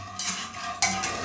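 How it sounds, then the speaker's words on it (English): A spoon stirs a rice pudding mixture of rice, milk and sugar in a pot, giving scraping, swishing strokes with a couple of clearer clinks against the metal, close and continuous. "it's very important to mix everything together all the time"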